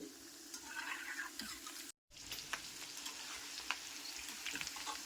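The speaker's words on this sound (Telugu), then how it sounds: "ఇలా అన్నింటినీ వేసుకున్నాక కలుపుకుంటూ ఫ్రై చేసుకోవాలండి" Cauliflower pakora mixture sizzles in a pan while being stirred, a steady crackling fry broken by brief scraping strokes and a split-second gap partway through.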